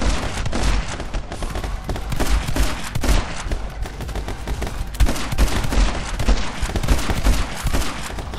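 Dense, chaotic gunfire in the action shooter My Friend Pedro, heavy booming blasts overlapping in a constant loud barrage with sharp low-end thumps scattered throughout.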